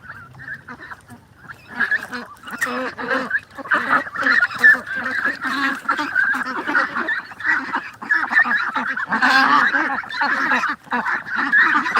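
A flock of domestic ducks on a duck farm quacks and honks continuously at close range, calls overlapping in a busy, steady clamor throughout.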